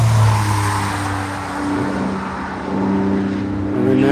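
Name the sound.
Porsche race car passing by on track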